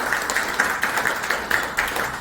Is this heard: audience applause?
yes